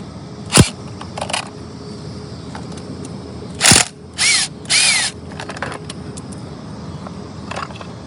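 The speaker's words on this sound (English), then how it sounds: "I'm going to use an impact." An impact wrench zips off the bolts on the shifter cover of a Honda Rebel 300 motorcycle, sounding as a few short, loud bursts spread across a quiet garage with small clicks and handling noises between them.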